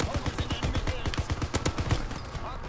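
Rapid bursts of MG-81 machine gun fire in the World War II shooter Call of Duty WW2, a fast, steady stream of loud shots lasting throughout with brief dips, while a player talks over the gunfire.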